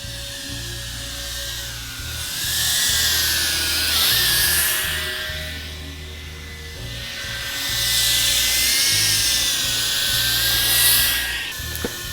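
High-pitched whine of an Eachine CVATAR 6S cinewhoop drone with DJI camera flying outdoors, rising and falling as it passes closer and farther, with a steady low hum underneath and no speech.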